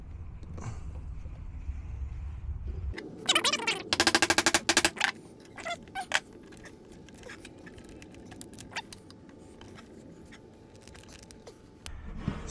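A chisel cracks glue away from the seams of a LiTime 12.8V 100Ah LiFePO4 battery case, giving a quick flurry of sharp clicks and snaps followed by scattered taps over a quiet room, with no talk.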